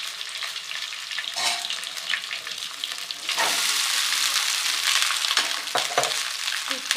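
Jeera rice is fried and stirred in a hot pan, a constant close sizzle that swells louder partway through, with repeated scraping strokes of the spatula and no speech.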